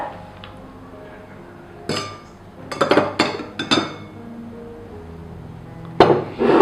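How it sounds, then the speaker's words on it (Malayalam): Four ice cubes clink into a glass while a rose mojito lemon drink is being made, several sharp clinks and clatters landing at intervals, close and fairly loud, with a few scattered hits near the end. "ഇനി നമ്മൾ ഇന്നത്തെ ചേർക്കാൻ പോണത് 4 ഐസ്"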